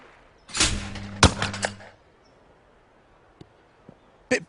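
Gunfire in a shooting event from the London 2012 video game: two loud, sharp shot bursts with ringing tails close together, then quieter clicks and another sharp burst at the end, no talking.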